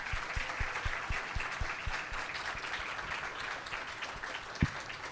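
Audience applause greets the authors at a book launch and talk, a steady wash of many hands clapping at moderate distance, with a single sharper knock near the end.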